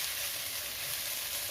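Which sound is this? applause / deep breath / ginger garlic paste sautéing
ginger garlic paste sautéing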